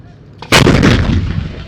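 An Israeli artillery cannon fires in northern Gaza: a single loud, close blast that bursts suddenly and then rolls away in a long, booming decay.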